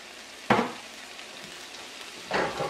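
Vegetable oil crackles and sizzles in a hot wok while cooking shrimp lo mein, with two short, close bursts of frying hiss about two seconds apart over a quiet background.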